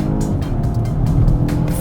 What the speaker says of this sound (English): so I shall press the brake, give it gas, and go